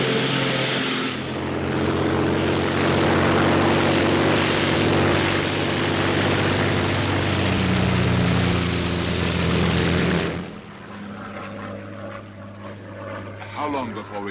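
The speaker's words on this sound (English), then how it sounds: "a Royal Air Force plane is waiting for us at a secret landing place" A Royal Air Force propeller plane in flight over Dover makes a loud, steady engine drone that fills the cabin, then drops off abruptly near the end while voices talk.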